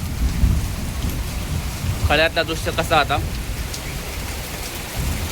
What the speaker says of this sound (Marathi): म्हणजे तुमका समजात की किती मोठा पाऊस पडता तो